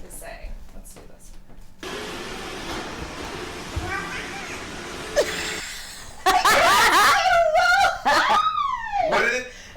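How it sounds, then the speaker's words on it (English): A cat meows several times in short, rising and falling calls, loud and close, after a stretch of steady background hiss and muffled room noise. "So here is a cat. We'll just let you guys listen"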